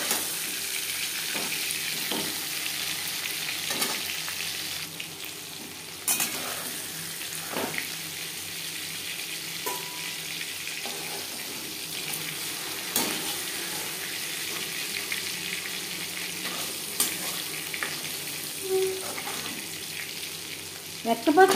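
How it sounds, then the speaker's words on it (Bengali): Hilsa fish pieces and heads fry in oil in a pan, a steady soft sizzle running throughout, broken by occasional sharper clicks and light pops, with no voices. "সেম প্রসেসে মাছের মাথাও ভেজে নেব"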